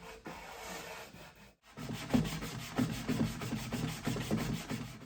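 Wooden furniture is sanded by hand, a close, soft, continuous rubbing rasp with rhythmic back-and-forth strokes, briefly pausing once before resuming, with no voices.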